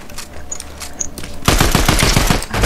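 Rapid automatic gunfire in the video game Fortnite, a dense burst of loud shots arriving after a quieter stretch of lighter game noise, close and without talk.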